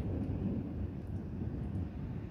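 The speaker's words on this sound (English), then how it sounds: "This is a full on lightning storm now." A deep, steady low rumble of distant thunder from a lightning storm over south east England, with some wind buffeting the microphone.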